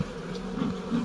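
Honey bees buzz steadily at a hive while a queen bee is being added in spring, a continuous close drone swelling slightly in places, with no talking.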